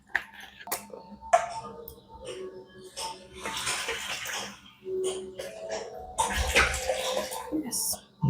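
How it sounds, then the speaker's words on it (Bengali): Water pours from a bottle into a cooking pot while Bengali mutton kosha and moong dal khichuri are being made. Bursts of splashing and gurgling rise and fall at close range, mixed with clinks of utensils and people talking nearby. "ওই বোতলের জলটা দিই।"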